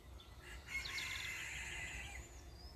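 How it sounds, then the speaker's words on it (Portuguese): A rooster crows once from a moderate distance outdoors in the early morning, a drawn-out call standing over faint ambient noise, with no talk. "Ó o galinho cantando."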